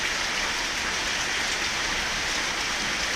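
Heavy rain pouring down in a steady, dense hiss that stays even and loud throughout, with no voices.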